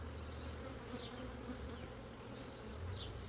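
Honey bees buzzing around hive boxes in an outdoor bee yard, a steady, dense drone of many insects with faint individual bees passing close, no voices.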